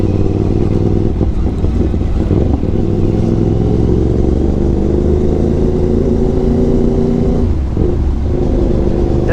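Motorcycle fitted with a CS Pro aftermarket exhaust cruising on a morning ride, a loud continuous low rumble with steady engine drone and slight throttle swells, no talking over it.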